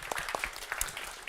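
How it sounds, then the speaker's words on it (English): Applause from an audience at an online accelerator demo day, a brief burst of scattered, fairly faint claps. "Big applause to all the investors."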